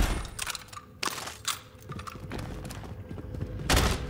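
EX1 automatic weapon firing in Warzone Season 5, short bursts of sharp gunshots cracking out at irregular intervals over a dense layer of game noise, with a loud final volley near the end.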